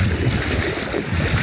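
Floodwater rushing after heavy rain at the Malangwa–Sonbarsa border crossing between Nepal and India, a steady broad roar of moving water mixed with outdoor wind noise.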